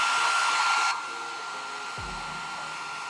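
A hot-air blower heats the adhesive of a GoPro helmet chin mount, its steady whooshing roar dropping to a lower, quieter setting partway through, with a faint thump near the end.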